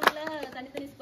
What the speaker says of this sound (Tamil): அவருக்கு ஒரு பலத்த கரகோஷம்.